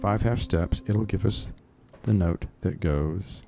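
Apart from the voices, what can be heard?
No everyday noises stand out.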